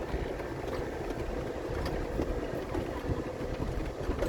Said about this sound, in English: A tad windy.